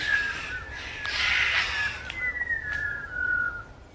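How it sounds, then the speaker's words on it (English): A white-winged chough gives long, clear descending whistles, several drawn-out calls in sequence, close and distinct with a few faint clicks between them. "Their call is a descending whistle and quite atmospheric to witness as a chorus."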